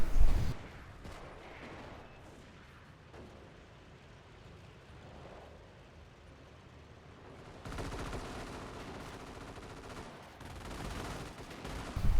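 Calliope rocket artillery in a video game, a steady dense rumble of distant launches and fire with a louder swell partway through, continuing without any talk.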